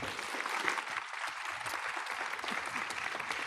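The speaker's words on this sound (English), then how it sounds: "Let's give them one round of applause." An audience applauds a news panel at a live event, a continuous, even wash of clapping from many hands, fairly faint and heard without talk.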